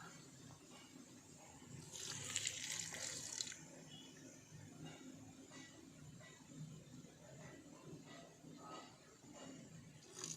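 Aqua regia poured gradually onto scrap metal sets off a hissing, fizzing reaction, with a louder rushing burst early on and steady bubbling continuing underneath afterward.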